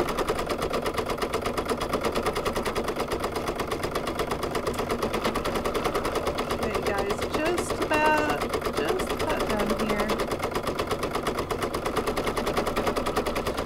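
An embroidery machine stitches a four-leaf clover (shamrock) design with a rapid, even mechanical pulse that runs steadily under a speaking voice.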